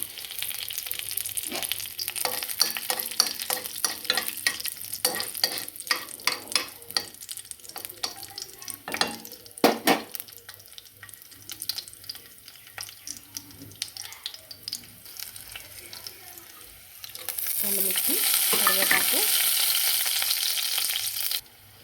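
Black gram and garlic fry in hot oil for a tempering, a crackling, popping sizzle with stirring scrapes close by, ending in a louder steady hiss.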